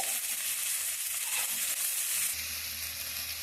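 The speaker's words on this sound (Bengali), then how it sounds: "এখন কড়াই আমি দিয়ে দেবো প্রথমে পেঁয়াজ কুচি" Chopped onion fries in white oil and butter in a kadai, giving a steady hiss of sizzling that holds at an even level and is joined partway through by a low hum.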